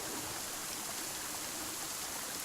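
Steady rushing of a river flowing through a dinosaur survival game, a continuous broadband wash of water heard alone at moderate level with no talk.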